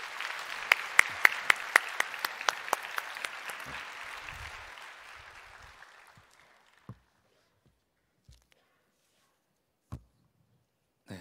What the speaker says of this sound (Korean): 박수로 환영해 주시기를 바랍니다.